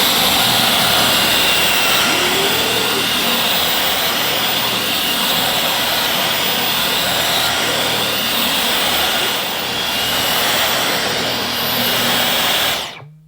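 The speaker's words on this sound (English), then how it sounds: "I think the boost setting did get the hair up a little bit faster than using the cleaner on medium" A Dyson Digital Slim cordless vacuum cleaner runs on its boost setting while picking up a dog's hair. It gives a loud, steady high-pitched whine with a jet-like rush that holds for about thirteen seconds, then cuts off abruptly.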